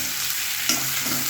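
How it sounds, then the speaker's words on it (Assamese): Chopped onions with ginger, garlic and green chilli sizzle steadily in a hot oiled wok, a close continuous hiss with a brief stirring clatter partway through. "মই ধুনীয়াকৈ পিঁয়াজখিনি ভাজি ল'ম"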